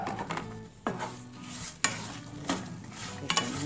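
Oregano, cumin and pepper toasting in a pan, with soft frying crackle and several sharp scrapes and knocks of a utensil stirring against the metal, close and without speech.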